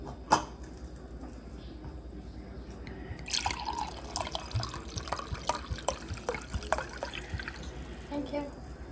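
Humilla wine poured into a glass at a home tapas dinner, a soft trickling and dripping against quiet room noise, brief clinks near the middle.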